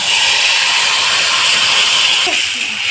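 Spice paste hits a hot pan for a Rui fish curry, giving a loud, steady sizzling hiss that eases slightly near the end.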